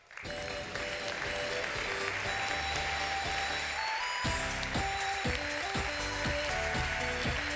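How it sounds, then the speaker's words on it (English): Audience at a European startup conference breaks into sustained, dense applause to welcome a panel onto the stage, with music playing underneath throughout. "give a warm welcome, a big applause for my great panel"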